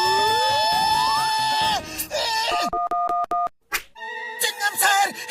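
Public telephone keypad dialed in a cartoon: a quick run of clear, evenly spaced button tones sits between louder voices and music, with more voices and music following.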